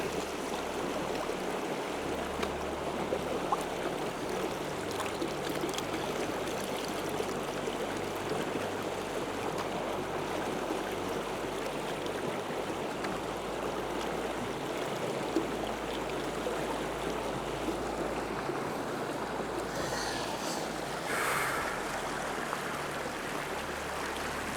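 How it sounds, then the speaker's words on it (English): Flowing water of the Peel River near Nundle, Australia, a steady broadband rush heard up close for the whole stretch, with a brief brighter splash or knock toward the end and no voices. "So this is the Peel River. It's kind of the main river around these sort of areas"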